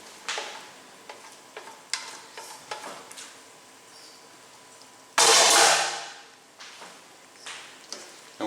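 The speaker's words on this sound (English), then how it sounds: "going to give it a quick stir" A spatula stirs cabbage frying in a pan with garlic and oil for chop suey, giving soft scraping clicks at irregular intervals, then a sudden loud burst of sizzling that fades over about a second.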